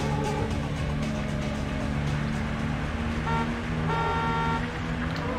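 Car horn honks in the Need for Speed racing game, several tonal toots sounding over continuous engine and traffic noise, fairly close and loud, with no talking.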